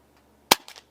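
A single sharp crack from a JTS Airacuda Max .177 PCP air rifle at an airgun expo, loud and close, followed by a faint metallic rattle as the echo dies away.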